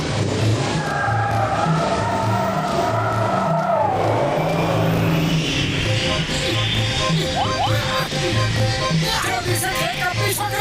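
A cartoon flying car's engine roars loud and continuous as it chases a train, with shifting revving tones and whooshing effects layered throughout.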